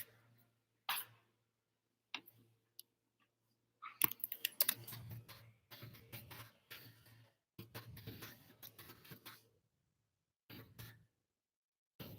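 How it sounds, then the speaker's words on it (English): A computer keyboard is typed on in quiet, separated bursts of fast clicking, with a throat clear and a cough in the pauses. "So you will see me type."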